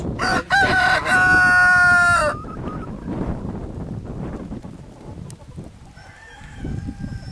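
A rooster crows loudly and close by, one long harmonic call, then quieter clucking and rustling follows, with a fainter crow near the end and some wind noise on the microphone.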